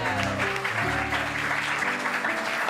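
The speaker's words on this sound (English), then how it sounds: "more round of applause" An audience at a Musical Monday show applauds in a continuous wash of clapping, with sustained musical tones and a few voices sounding underneath.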